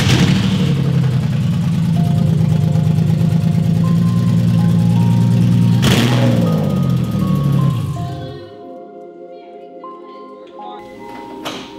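A Nissan 350Z with open headers starts and revs hard, a loud raw engine roar holding steady before a sharp blip and then dropping away to near quiet.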